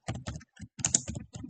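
Someone types on a computer keyboard, a quick run of close, crisp key clicks in short bursts with brief pauses.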